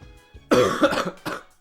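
Close coughing: one long, rough cough followed quickly by a shorter second one, loud against a quiet background.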